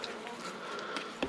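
Honeybees buzz around a hive super in the field, a soft continuous hum at low level with a few louder passes close by.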